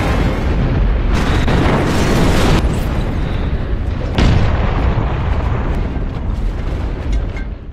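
A loud roaring blast with heavy rumble fills the scene, followed by a second booming burst and sustained crackling, dense noise throughout.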